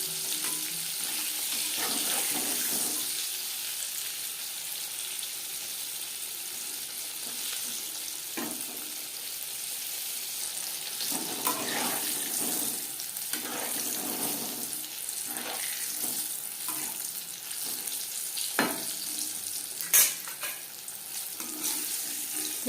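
Chicken pieces frying in refined oil over a medium flame hiss and crackle steadily throughout after being turned, with occasional clinks and bursts of louder sputter, and nobody speaks.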